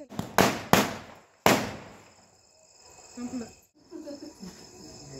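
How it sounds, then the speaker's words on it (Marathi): Three sharp firecracker bangs go off close by in quick succession near the start, each with a fading tail, brought from elsewhere and set off by a boy, followed by quieter crackle and faint murmuring. "आयुषने आणले होते तिकडून येताना फटाके. दीदीला वाजवायचे होते परंतु दीदीला काय वाजवतच नाही आले, मग त्या वाजवले आयुषनेच"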